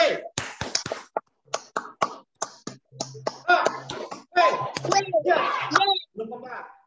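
Children in a classroom clap a rhythmic hand-clapping routine, with sharp, separate claps falling in a steady pattern and some young voices talking between and over them.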